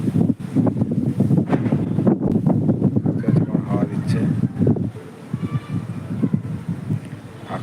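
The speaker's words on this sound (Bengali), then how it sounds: "হাওয়া ঝড় শুরু হয়ে গেছে হাওয়া দিচ্ছে কেমন দেখো আকাশে" Strong gusting wind of a gathering storm buffets a rooftop under dark clouds, roaring and rumbling in loud, uneven bursts close against the microphone, easing slightly toward the end.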